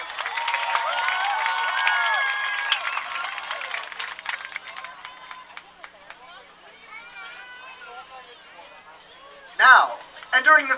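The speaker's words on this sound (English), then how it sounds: "Please give one more round of applause for the Lockhart High School Lionettes." A crowd at a Lockhart High School sports broadcast applauds and cheers for the Lockhart High School Lionettes. Scattered clapping runs under a voice over a loudspeaker, then swells into a few loud bursts near the end.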